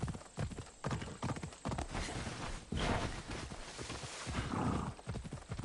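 Horse hooves clip-clop over ground in the video game Assassin's Creed Odyssey, a quick rhythmic gallop mixed with steady ambient game noise at moderate level.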